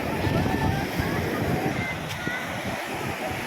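Sea waves wash onto a beach in rough, choppy weather, a steady broadband roar with wind buffeting the microphone, continuous and fairly loud throughout.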